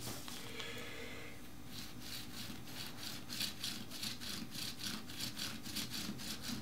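A small piece of sponge rubs red and yellow dye across a leather wallet back in a steady back-and-forth rhythm of soft, close scrubbing strokes, quiet and alone with no talk.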